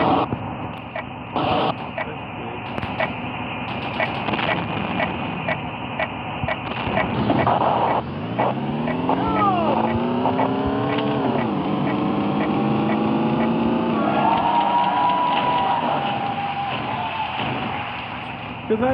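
Engine drone of a car in a video game, steady and loud throughout, with rising and falling pitch sweeps as it revs and accelerates partway through.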